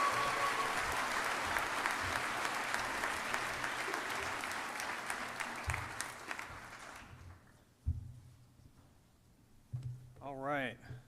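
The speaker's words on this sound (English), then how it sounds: "One more round of applause for the MS MedTech class of 24." A large audience at a biomedical engineering commencement gives sustained applause for the MS MedTech class of 2024; the clapping fades out and a voice then speaks over the quiet hall.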